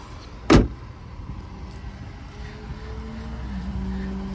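A car door shuts once with a single sharp, close thud near the start, followed by a quiet hum of the idling or ambient background.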